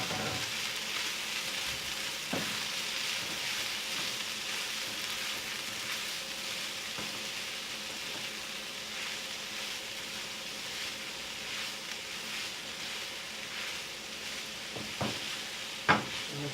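Shark meat sizzles in a pan with dark-fried onions over a medium flame, a constant close crackling hiss broken by a few soft stirring clinks and scrapes.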